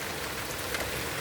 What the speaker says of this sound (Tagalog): Yan, umulan ulit.